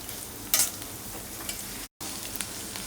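Flattened rice (poha) fries in a pan and is stirred until it turns white. A soft, steady sizzle runs throughout with scraping stir sounds and one short cut in the middle.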